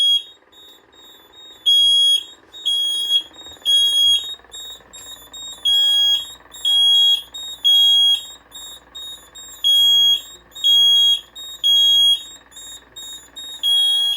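Conventional fire alarm system sounding during a duct detector test: loud, repeating electronic alarm tones in regular bursts, each pulse sharp and tonal, close and alone with no talking.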